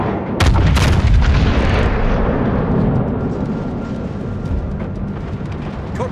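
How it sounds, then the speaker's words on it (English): Warship artillery fires in the World of Warships game during a Musashi battle: a heavy cannon salvo booms loudly and close, followed by a long rumbling roar that slowly fades. "Concentrate fire on the enemy warship."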